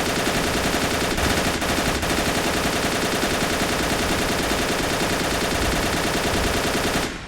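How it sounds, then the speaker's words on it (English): Continuous machine gun fire rattles in the WWII strategy game Men of War: Assault Squad during a German defense at Stalingrad, loud and unbroken rapid bursts over several seconds, ending abruptly. "Back on that MG, man."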